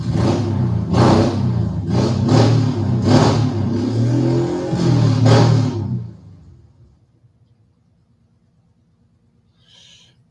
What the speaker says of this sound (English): My neighbor is deciding to tune his motorcycle today.